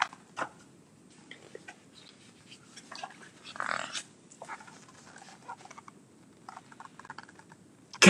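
Scattered keyboard clicks and taps, irregular and fairly quiet, with bursts of faster typing against a soft background.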